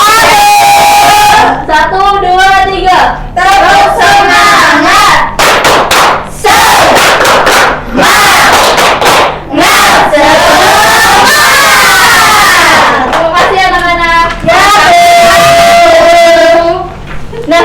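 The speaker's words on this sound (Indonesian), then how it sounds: "Kita tepuk semangat dulu ya." A primary school class does a rhythmic spirit clap chant, loud group claps in sharp bursts mixed with children's shouted chanting and voices, close and energetic throughout.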